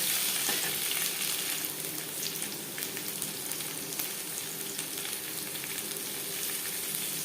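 Potatoes fry lightly in hot mustard oil for Bengali aloo posto, a dense, even crackle and hiss held at a constant level and close to the pan throughout.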